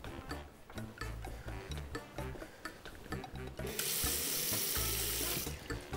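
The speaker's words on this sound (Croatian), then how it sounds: "Stavit ćemo malo vode u šerpu." Tap water gushes loudly into a cooking pot for boiling polenta, a steady rushing stream that starts partway through and runs for about two seconds amid clattering kitchen sounds, then cuts off.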